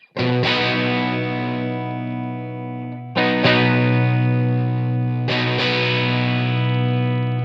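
A fuzzy, buzzing electric guitar through a DIY Fuzz Face kit pedal rings out three sustained chords, one after another, each left to hang before the next strike.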